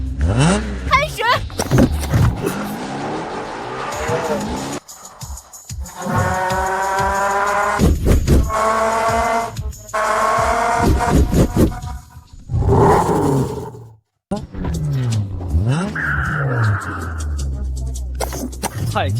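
A taxi racing a supercar, engines roaring and revving with rising and falling pitch through several bursts, loud and close, with voices and other sounds in between.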